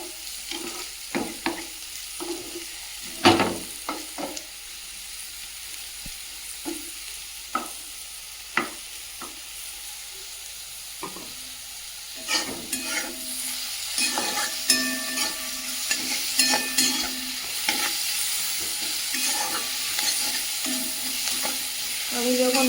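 Food frying in a pan in a home kitchen, with a constant low sizzle and frequent sharp scrapes and knocks of a spatula that grow denser and louder toward the end.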